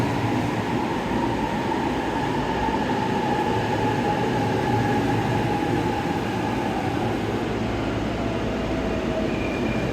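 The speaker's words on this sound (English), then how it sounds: "The rapid train will arrive shortly on track 4." Rumbling rapid train pulling into a station in Japan on track 4, steady rolling wheel noise with faint high squeals and hum, loud and close throughout.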